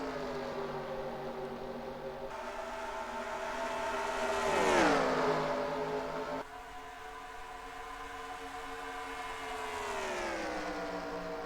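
NASCAR race cars in the NASCAR Racing 2003 game drone at high revs, engine tones sweeping as cars close in and pass, one loud pass swelling and dropping in pitch, then steady engines continuing.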